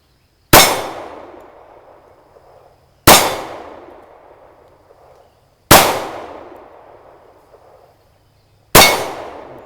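Four sharp, loud Glock 36 pistol shots fired outdoors at about 15 yards, each a single crack with a short ringing decay, spaced roughly three seconds apart with no talk.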